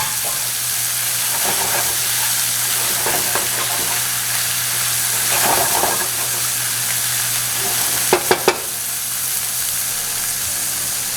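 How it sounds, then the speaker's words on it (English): Chicken for cacciatore sizzles and crackles steadily in a hot pan with a little red wine, with occasional stirring scrapes and a few sharp clinks near the end. "Here's the frying."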